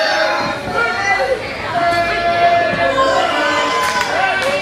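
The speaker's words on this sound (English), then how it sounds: "Crowd continues to disrespect Jordan Kage." Crowd at an independent wrestling show jeering a wrestler, a loud, continuous roar of mixed voices with shouts rising and falling throughout.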